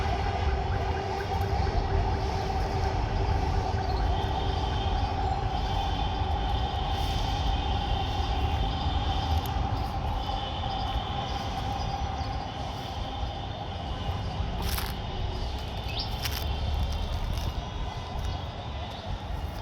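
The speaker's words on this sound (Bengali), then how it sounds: "মেট্রো রেল যাচ্ছে উপর দিয়ে" Rumbling, steady roar of a metro train passing overhead beside a mosque, with rail screeches and squeals rising toward the end.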